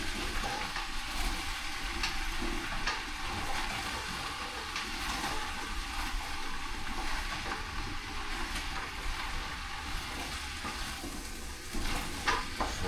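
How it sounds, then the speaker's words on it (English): Food sautés in a hot pan with a steady, dense sizzle and crackle that holds for the whole stretch, broken by faint stirring scrapes, with no talking. "Saute all that."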